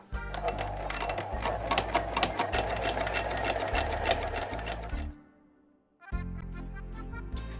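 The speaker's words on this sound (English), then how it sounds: "For this I choose again a big zigzag stitch, and I'm zigzagging around." A sewing machine runs a big zigzag stitch along a facing edge with a fast steady mechanical chatter for about five seconds, goes briefly quiet, then starts up again, close and loud.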